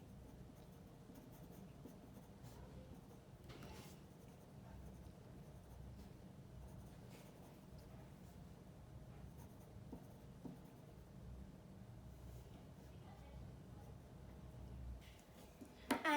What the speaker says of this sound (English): we can add also some details in it with our pencil